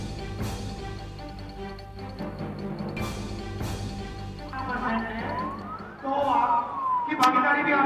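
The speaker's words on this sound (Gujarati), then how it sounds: "એ દરમિયાન એમ્બ્યુલન્સ આવે છે" An ambulance caught in a dense crowd wails with a rising and falling siren that grows louder toward the end, over a steady murmur of crowd noise and voices.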